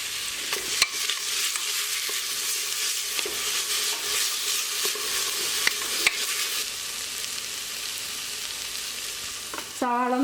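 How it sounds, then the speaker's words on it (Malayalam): Sliced onions with salt sauté in a pan for chicken stew, a loud, continuous close-up sizzle with occasional spoon taps and stirring scrapes throughout. "ആവശ്യത്തിന് ഉപ്പ് ചേർത്ത് കൊടുത്തതിന് ശേഷം സവാള നന്നായിട്ട് വഴറ്റിയെടുക്കുക."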